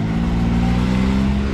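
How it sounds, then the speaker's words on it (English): A 2021 Can-Am X3 Maverick XRS Turbo RR side-by-side accelerates in all-wheel drive, its engine a loud, steady mid-pitched roar held close for a second and a half with no talking. "Just stepped on the throttle, all wheel drive, she picks the front right up"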